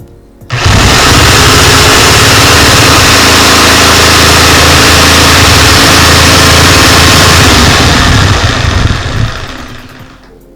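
A counterfeit Bosch jigsaw runs for about nine seconds, starting abruptly and holding a loud, steady, rattling motor buzz before winding down, with no talking over it.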